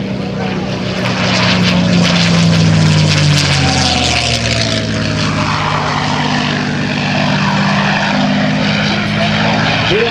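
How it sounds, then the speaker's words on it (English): Propeller-driven warbird with invasion stripes, flown by a veteran pilot, makes a low pass at the 2009 Joint Services Open House air show, its engine drone swelling loud and steady over crowd noise while an announcer talks over it. "On the deck, here comes Dale Snodgrass one more time"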